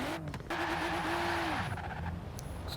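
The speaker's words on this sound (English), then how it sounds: "Sounds pretty much the same, but I think the blow-off valve is a little louder." Home-built drift car engine revving in short bursts near a house, with a hissing blow-off valve release between revs, fairly faint and brief.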